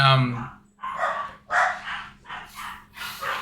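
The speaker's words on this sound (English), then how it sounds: "These dogs are barking." Several dogs barking nearby in a quick series of loud, harsh barks, one after another, with short gaps between them.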